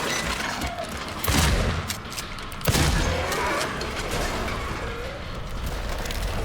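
Shotgun fire in the video game Silent Hill 2: two loud, sharp blasts a little over a second apart, set against a constant noisy game background.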